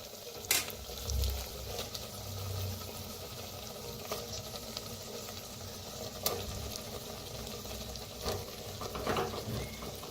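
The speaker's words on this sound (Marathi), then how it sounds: "आता ह्याच्यातच आपण वांगी मिक्स करूया." Brinjal being stirred and fried in a clay pot, giving a steady low sizzle with scraping stir strokes and occasional clinks, moderately close and without speech.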